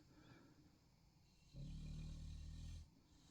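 A sleeping dog aboard a ship snores faintly in a quiet room, one long, low, rumbling breath lasting over a second, standing out against the steady background hum.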